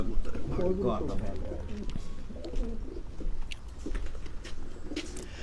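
Pet pigeons coo in soft, rounded, repeated calls close by, overlapping one another, while someone talks over them.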